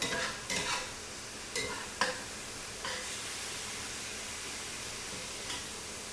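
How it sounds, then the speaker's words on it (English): Food sautéing almost dry in a pan for carne guisada, a steady soft sizzle broken by a few sharp scrapes and stirs of a utensil against the pan, close and fairly quiet with no talking. "But this is almost dry cooking here. This is sauteing."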